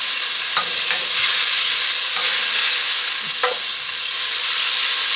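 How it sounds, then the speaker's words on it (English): Butter melting and sizzling loudly in a pot over lowered heat while cooking mac and cheese, a dense, steady hiss with a few soft knocks and scrapes from a utensil. "I'm going to add some butter, which I'm going to use to saute my seasoning"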